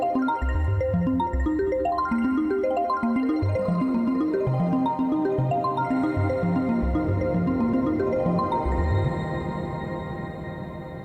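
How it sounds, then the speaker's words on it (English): A CHOMPI Tempo synthesizer bass line runs through its clock-synced delay, busy plucked notes with echoing repeats locked to the beat, filling about eleven seconds before gently thinning at the end, with no voices. "What you're hearing is part of Tempo's new clock synced delay system."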